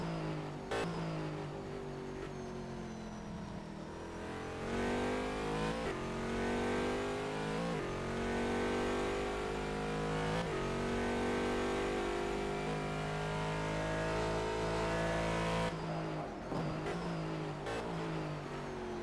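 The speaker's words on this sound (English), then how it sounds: "And now we are on board with the car 209 TXL racing car." Car 209, a TXL racing car in a virtual endurance race at Bahrain, roars steadily from the onboard view, its engine note rising and falling through shifts and revs with a brief tire squeal, loud and continuous throughout.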